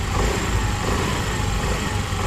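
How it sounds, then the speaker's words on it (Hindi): Honda Activa 6G scooter, BS6, running after a full engine fitting in a repair workshop, giving a steady, loud idle drone throughout with no talk. "अब हमने इस गाड़ी को स्टार्ट कर दिया है दोस्तों, और इसकी आवाज़ भी बहुत ज़्यादा मस्त निकल रही है।"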